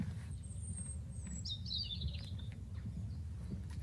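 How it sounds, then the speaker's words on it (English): A bird calls a few times, thin high chirps and a short warbling phrase, faint over a steady low rumble of outdoor background noise on the Cotswold Way. "Can you hear the birds?"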